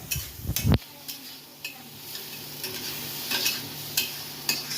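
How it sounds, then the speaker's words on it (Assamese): Bottle gourd peel frying in an open pan on high flame, stirred with a utensil: a sharp clatter of metal on the pan at the start, then a steady soft sizzle with faint scraping and ticks throughout. "মাজে মাজে ঢাকনিখন গুচাই এনেকৈ লৰাই থাকিব আৰু এতিয়া মই একেবাৰে ফ্লেমটো হাই কৰি দিছোঁ"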